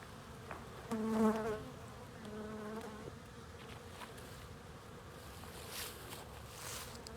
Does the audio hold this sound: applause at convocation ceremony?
no